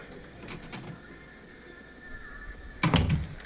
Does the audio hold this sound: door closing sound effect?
yes